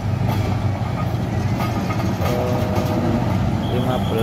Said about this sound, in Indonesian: Dan ini ada lokomotif CC206